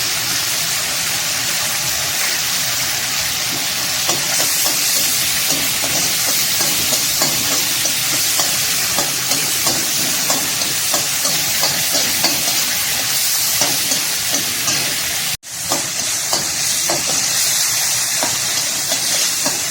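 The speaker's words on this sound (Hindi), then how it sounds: "जी तो इसे मैंने अच्छे से फ्राई कर लेना है और इसमें डालना है ये एक चिकन क्यूब" Tomato paste with a crumbled chicken stock cube fries in a pan for street-style chicken macaroni, a loud, continuous sizzle with steady stirring scrapes and a brief break near the end.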